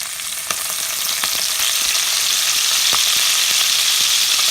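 Methi (fenugreek) seeds frying in hot oil over medium heat, a loud, close, steady crackling sizzle with a few light stirring clicks and no voices.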